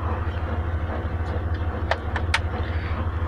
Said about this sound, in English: Thought I'd start her up. Let her run a little bit.